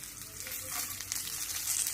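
Onion, curry leaves, ginger and garlic fry in a pan with a continuous, close, crackling sizzle that stays even and bright throughout, with no voices.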